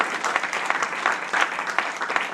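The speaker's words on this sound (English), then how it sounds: "Give yourselves a big round of applause for what you have done," Audience at an MLK event applauds, a dense wash of many hands clapping at steady loudness for a couple of seconds with scattered sharper claps on top.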